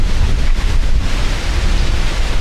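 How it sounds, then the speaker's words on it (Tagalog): Strong wind buffets the microphone on a beach in Boracay, Philippines, roaring steadily and loudly with a low rumble throughout, with possible surf mixed in and no talk. "Kaso grabe lang yung hangin, oh."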